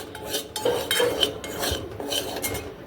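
Metal spoon stirring and scraping a dry turmeric and amla powder mix in a pan while it roasts for homemade black hair dye, with steady close clinks and scrapes and no talking.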